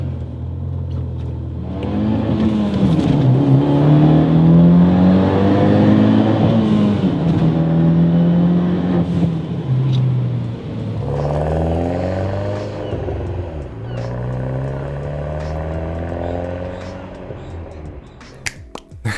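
An Abarth 124 fitted with a big turbo and a new exhaust revs up and down in several rising and falling sweeps, loud and close, with a brief lull partway through.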